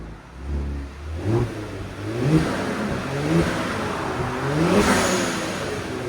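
Repeated close revving from a 2020 Kia Stinger GT's 3.3L twin-turbo V6 on its stock exhaust: four or five sharp throttle blips climb and drop over a steady idle, with no voices.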